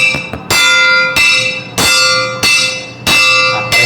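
A hand-held maracatu iron bell, inspired by church bell tolls, struck by hand in a steady beat of about six bright metallic clangs, each ringing out with a long shimmering decay, loud and close with no voices.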